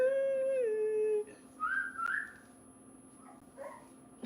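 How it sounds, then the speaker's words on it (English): A young child tries to whistle, making a wavering, breathy tone that slides downward, then a few thin, squeaky attempts that rise and break off. The sounds are close and moderately loud over a quiet room. "she's trying to whistle"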